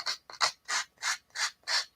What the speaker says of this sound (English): This is a sanding block.